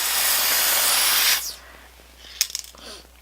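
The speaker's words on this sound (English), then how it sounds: "So, I'm going to be spraying this on my arm first, just to see how the color turns out." Spray-on makeup foundation blasting from a can onto an arm, one loud continuous aerosol hiss for over a second that cuts off abruptly, followed by a few faint rustles and clicks.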